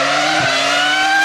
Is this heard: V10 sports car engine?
yes